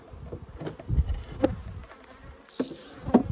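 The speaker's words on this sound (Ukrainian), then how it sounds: "Ось вона зібралася ось так в рій" Swarm of Carpathian honey bees buzzing close by as they are shaken into a hive, a droning hum broken by several dull knocks and thumps, no talk.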